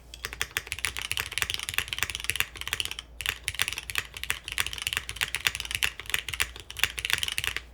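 Steady, fast typing on a Neo75 mechanical keyboard fitted with Cherry switches, close and crisp, a dense run of clacky keystrokes with one brief pause partway through.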